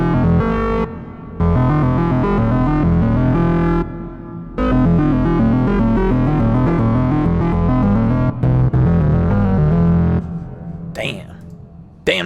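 An Arturia Synthi V software synthesizer plays a bass patch with reverb added, loud repeating pulses with a few short gaps, then a sharp tail near the end.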